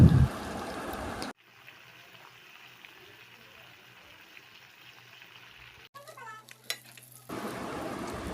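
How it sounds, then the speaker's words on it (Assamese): Climbing perch fish fry in oil in a home kitchen, giving a soft continuous sizzle that drops away for a moment, with louder handling noise at the start and end. "এতিয়া মই উঠাই থ'ম আৰু এনেদৰে বাকীকেইটা মাছো ভাজি ল'ম"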